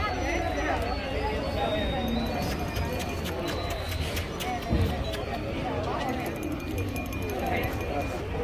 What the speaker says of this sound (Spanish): Bien, los caballos.